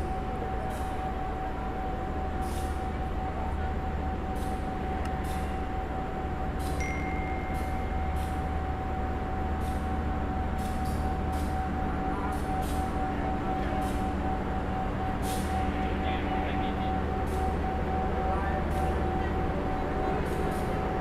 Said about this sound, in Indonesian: Jalur 6 daerah selatan lokomotif melintas langsung.